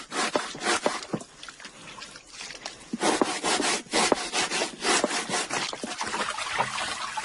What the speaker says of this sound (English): The first stage of bread making is to scrape the tough outer skin of the manioc.